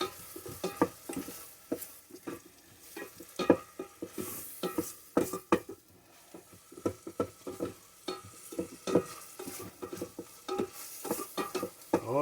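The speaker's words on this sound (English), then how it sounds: "We'll get that all stirred around in there good." Onions and garlic fry in a pan while being stirred, a steady sizzle broken by repeated close scraping and clinking strokes of the spoon against the pan, with no talking.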